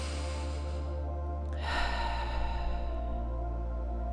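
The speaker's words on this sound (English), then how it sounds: "and breathe in." A single breath drawn in during a guided nature meditation, a soft airy inhale that swells about midway and then fades into quiet, with no talking.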